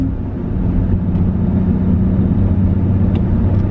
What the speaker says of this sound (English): I let go of the gas, let it coast, put the clutch in